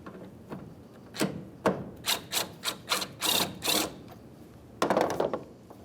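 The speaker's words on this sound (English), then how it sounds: "Now we'll continue on with a T45 Torx head socket to remove this mounting bolt." A T45 Torx socket turns out a tailgate mounting bolt on a 2005-2010 Dodge Dakota, giving a run of short, evenly spaced ratcheting clicks close to the microphone, then a final quick burst.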